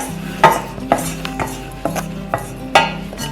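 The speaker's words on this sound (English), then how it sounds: "we're just going to put them into a pestle and mortar" Toasted whole spices for ras el hanout are tipped into a pestle and mortar, making scattered sharp clicks and clatters at irregular intervals, close and fairly loud, with no talk.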